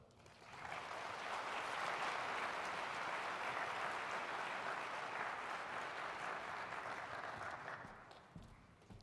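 Audience applause welcoming Dr. Joelle Pineau at a Royal Society of Canada event: steady, dense clapping swells in quickly, holds for about seven seconds, then tapers off, with no talking.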